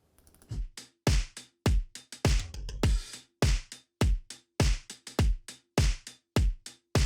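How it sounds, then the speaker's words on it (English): A programmed drum beat with punchy kicks and crisp snare hits in a steady, even rhythm, played alone and up close. "we've got this program beat that sounds like this"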